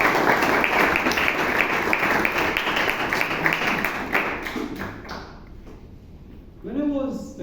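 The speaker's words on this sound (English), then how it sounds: "with a round of applause, let us welcome all our guests" A room of Toastmasters club members in Bangalore applauds to welcome guests, a dense, sustained round of clapping that fades out after about five seconds before a voice begins speaking.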